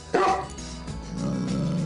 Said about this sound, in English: All this volume combined with an instinctively protective nature makes the English Mastiff an ideal watchdog.